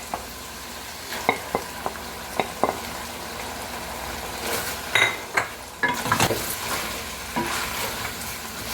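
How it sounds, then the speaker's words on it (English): Pork liver frying in a pan for pork menudo, a steady soft sizzle with scattered sharp clicks and scrapes of a utensil stirring against the pan. "When the meat is almost cooked, then I put the liver."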